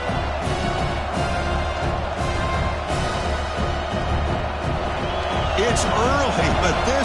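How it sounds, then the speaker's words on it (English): Stadium crowd noise at a TCU vs Tennessee college football game, a dense continuous roar that builds and stays loud throughout, with no one talking over it. "this crowd is fired up. Listen to this noise here."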